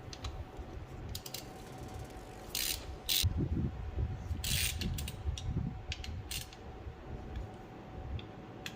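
Hex bolts are backed out of the clutch case cover on a Yamaha FZ-09 with 37K miles, a ratchet clicking in short bursts of rapid ticks with pauses between, close up and with nobody talking.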